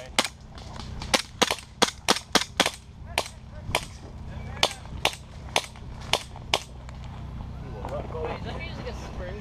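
Airsoft pistol firing during an outdoor pond game: a rapid burst of sharp snapping shots, then several more spaced shots, fairly close over a steady background hum.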